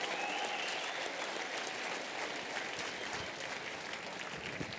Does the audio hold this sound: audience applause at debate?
yes